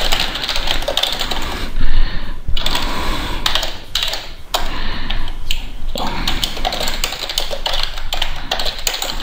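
Rapid, steady clatter of fingers typing on a computer keyboard, close up, with brief pauses between bursts of keystrokes.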